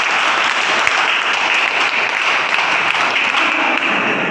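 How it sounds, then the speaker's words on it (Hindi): Steady, dense applause from a group of people at a scout and guide training camp, continuous and fairly loud throughout with no voices standing out. "अरे वाह, ताली।"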